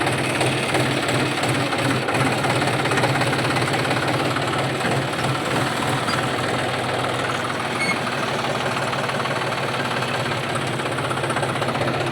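John Deere tractor engine running steadily, a loud continuous diesel chug and rumble filling the whole stretch with no pauses.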